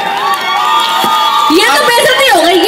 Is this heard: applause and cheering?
yes